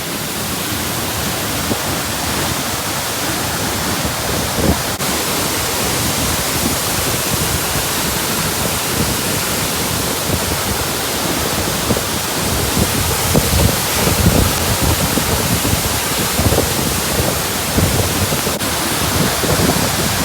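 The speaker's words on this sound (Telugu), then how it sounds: "ఇది కూడా బాగానే ఉంది వాటర్ ఫాల్" Dam Bri Waterfall near Bao Loc, Vietnam, roars as a dense, steady wash of falling water, loud and close, unbroken for the whole stretch with a slight breezy rumble and no voices.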